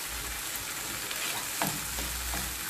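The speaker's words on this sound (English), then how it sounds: "So I will stir and ensure that the chili beef cube is well mixed with" Onions, tomatoes and a chili beef cube stirred in a hot pan, a dense, constant sizzle with a few soft spoon scrapes, close and steady, nobody speaking.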